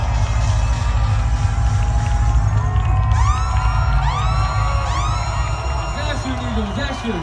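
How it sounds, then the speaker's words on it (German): A live rap event crowd cheers and whoops over a steady, loud roar of noise, with shouts rising toward the middle and no clear rhythmic clapping standing out. "Ein Applaus für Elo"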